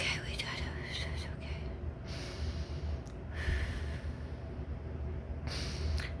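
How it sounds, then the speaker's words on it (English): Deep breaths are drawn and released close to the mic, with a few sharp airy inhales and exhales over a low rumble of a moving train. "Sometimes I do deep breathing."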